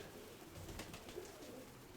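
Pigeons kept by a hobbyist coo softly, a faint low burbling over a quiet background for a couple of seconds, with no voices.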